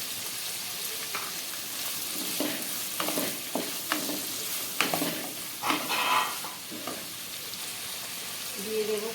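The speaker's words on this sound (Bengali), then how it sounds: "এইভাবে নাড়তে নাড়তে তারপরে ঢেকে ঢেকে ফ্রাই করবো সবজিটা" Mixed vegetables frying in a pan for egg pasta, sizzling steadily while being stirred, with repeated scraping and clattering strokes close by and no clear speech.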